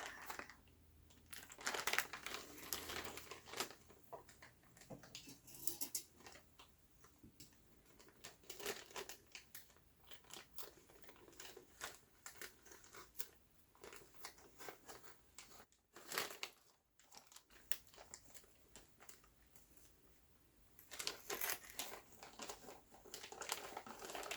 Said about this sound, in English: let's go ahead and open up this crinkly bag